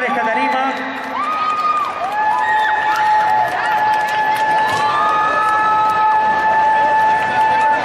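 A crowd cheers and calls out for a group of girl dancers at a performance, loud lively voices and shouts with sustained tonal cries and some scattered clapping underneath.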